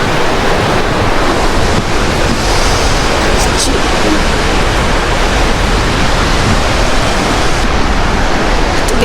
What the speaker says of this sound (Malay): Tengok angin kat aku.